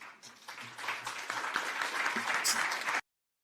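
Steady applause from a football stadium crowd, a dense, broad patter of clapping building slightly and holding for about three seconds before cutting off abruptly.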